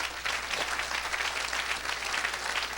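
An audience applauding continuously, a dense even patter of many hands clapping, fairly close and steady throughout, during a worship gathering.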